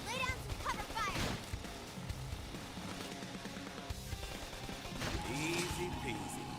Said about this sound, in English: Topple them with some gunfire! Lay down some cover fire.